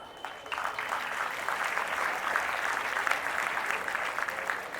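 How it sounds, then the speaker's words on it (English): Warm applause from an audience at an Independence Day celebration, a steady, moderately distant wash of many people clapping together that swells slightly and continues evenly throughout. "Please join me in giving them a warm round of applause."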